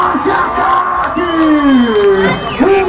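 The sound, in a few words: crowd cheering and shouting at a street event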